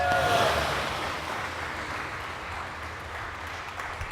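Crowd applause at a drag racing event, a dense wash of clapping that peaks early and then settles into a steady, diffuse roar with wind-like noise over it.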